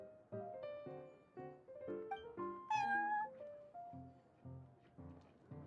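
A cat meows repeatedly in the Genius Invokation card game mode of Genshin Impact, several tonal, close mews in a lively rhythm over a light musical backdrop, with no talking.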